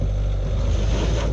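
A 2023 Mahindra Scorpio's tyres spin in place while digging into off-road ground, giving a loud, steady broadband roar with low engine drone and no pauses, heard alone without talk.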